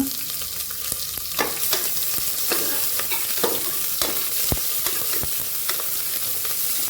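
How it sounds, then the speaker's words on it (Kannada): Ingredients for mushroom bath fry on a medium flame, a steady close sizzle punctuated by sharp clinks and scrapes of a spoon stirring the pan, with no talking. "ಇದೆಲ್ಲ ಕೂಡ ಮೀಡಿಯಮ್ ಫ್ಲೇಮಲ್ಲಿ ಫ್ರೈ ಆಗೋ ಥರ ನಾವು ಇಟ್ಕೋಬೇಕು ಇದೆಲ್ಲ ಮಿಕ್ಸ್ ಮಾಡ್ಕೊಳ್ಳೋಣ"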